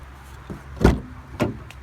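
A parked car unlocks at night with a short mechanical clunk of the locks, followed by a sharper latch sound as a door is handled, close and distinct against quiet surroundings.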